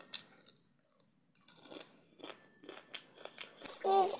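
Crunchy chili-flavoured snacks are chewed close to the mic in a bedroom, with repeated crisp bites and crunches coming in irregular bursts, growing louder toward the end.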